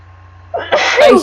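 A single sharp human sneeze indoors, starting with a quick inhale and bursting into a loud, close explosive release.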